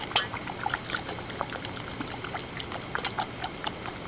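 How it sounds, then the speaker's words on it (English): Deer brains are added to boiling hot water on a stove for brain tanning buckskin, giving faint bubbling and soft splashing with scattered small clinks and ticks over a quiet background. "Add them to boiling hot water,"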